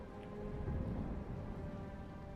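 Video game rainstorm with a low rumble of thunder, a steady hiss of falling rain under a deep rolling swell, moderately quiet and with no voices.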